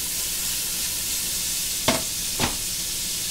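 Food sauteing in a pan for penne rustica, a steady broad sizzle running throughout with two brief louder stirring bursts near the end.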